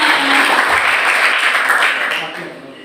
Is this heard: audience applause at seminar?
yes